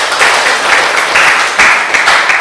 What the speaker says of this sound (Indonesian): Dengan aplaus untuk teman sekalian.